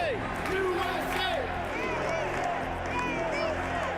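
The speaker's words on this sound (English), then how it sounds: "Man, it's the whole crowd." A large ballpark crowd cheers and shouts continuously, a dense roar with whistles and scattered yells rising and falling, heard at a moderate distance.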